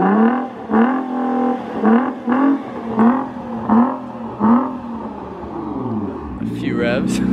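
A Nissan GT-R engine is revved in repeated short blips, about seven rising bursts roughly every 0.7 seconds, loud and close, then settling into a lower drone at the end.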